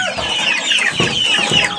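Chickens clucking and squawking close by in a busy, overlapping chorus, continuous throughout.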